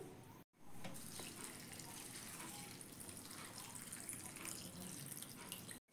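Water pouring steadily from a tap into a large bowl of flattened rice (chira) for washing, a close continuous splashing rush with a brief stop at each end.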